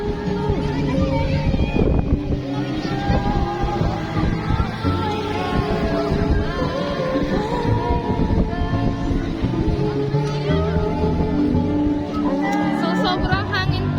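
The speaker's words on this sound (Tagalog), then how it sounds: "So sobrang hangin po dito guys." Strong wind blowing by the Labi River in Bongabon, Nueva Ecija, a loud continuous roar buffeting the microphone throughout, with muffled sounds mixed in.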